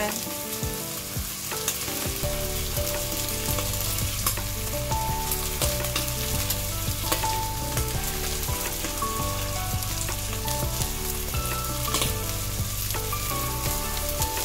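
Chicken soup with sponge gourd and glass noodles sizzles and bubbles steadily in a pot as black pepper goes in, with a continuous crackle over soft background music.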